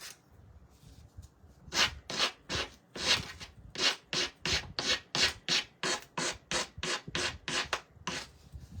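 Sandpaper rubbed by hand across a surface while painting: a steady run of rhythmic rasping strokes, close and fairly loud, about two per second, with no talking.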